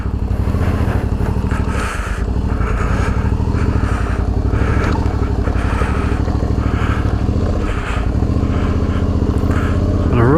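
A Suzuki V-Strom DL650 motorcycle creeps along slowly on a slipping clutch, its loud, close engine drone holding steady with small rises and dips in revs, and no speech over it.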